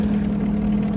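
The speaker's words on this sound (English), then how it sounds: "That's a plane." A steady, low droning airplane engine hum, even and unbroken, with no voices.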